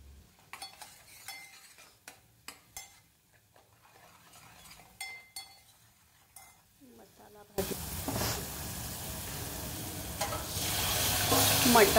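Masala being sautéed in oil for Kolhapuri mutton tambda rassa, with quiet stirring and utensil clinks at first, then a loud, steady sizzle of frying that builds and continues to the end.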